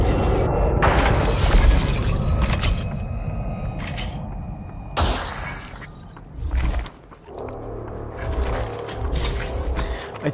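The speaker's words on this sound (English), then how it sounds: "No, not gunfire, an explosion." Explosions and shattering debris in the Population: One VR battle royale game, loud bursts with crackling breakup and rumbling tails, separated by short quieter gaps.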